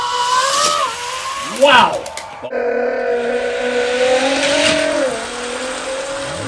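Hot Wheels toy cars race down a six-lane Super Drop drag track, a quick rattling rush of plastic wheels on the track that rises then stops around the two-second mark, with people reacting loudly and talking throughout.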